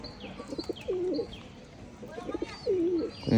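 Large pigeons coo in soft throaty bursts at a pigeon farm, a few repeated calls close by, with faint chirps and murmurs in between.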